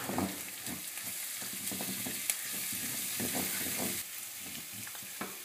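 Onion, garlic and crushed parsley sautéing in a pan for lamb in sauce, a steady close sizzle with occasional scraping as the mixture is stirred.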